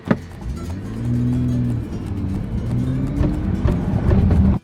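Rebuilt, previously crashed Nissan GTR launching from a standstill at full throttle, a loud engine roar climbing through revs in surges with brief shifts, close and alone.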